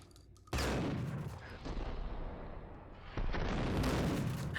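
Rapid gunfire from a shootout in the Max Payne video game: a loud burst of continuous shots that eases off, then surges back harder, with no talking.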